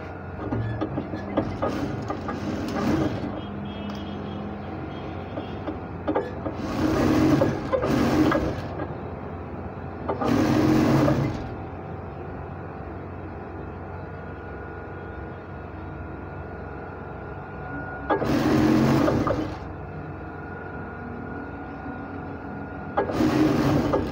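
A sewing machine stitches the inseam of a pair of trousers in several bursts of rapid mechanical whirring, each lasting a second or two and separated by quieter pauses with faint handling sounds.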